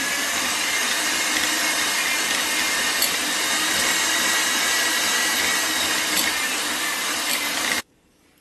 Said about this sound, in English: I'm going to do this with the hand mixer